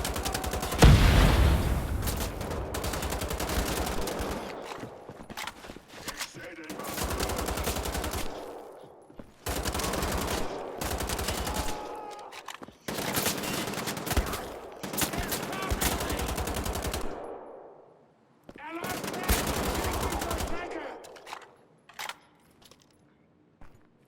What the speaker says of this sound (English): So right there is the Schockhammer. It's like a shotgun on steroids.